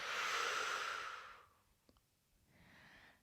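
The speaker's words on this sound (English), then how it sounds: "inhaling through the nose and exhale it through the mouth" A slow exhale through the mouth during a guided yoga vinyasa flow cool-down: a long, soft breathy whoosh fading out, a faint click, then a shorter second breath, quiet and close.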